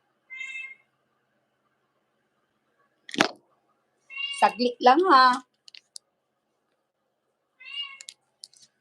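A voice imitates a cat's meow in a few short, high calls, with a brief sharp click and some quick speech in between, surrounded by silence.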